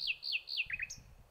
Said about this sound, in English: hear the nightingale sing